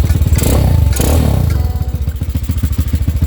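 A Honda CB100 motorcycle engine revs up loudly and close, then drops back to a steady, pulsing idle.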